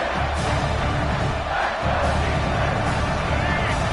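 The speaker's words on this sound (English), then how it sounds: "This crowd is trying to inspire this defense to make a big red zone stop." A college football stadium crowd roars to push the defense toward a red zone stop, a loud, sustained wall of cheering and yelling that never lets up.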